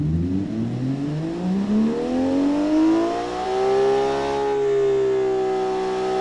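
A simulated car engine in an engine designer game revs up smoothly, its pitch climbing over several seconds and then holding high and steady, loud and alone without any talking.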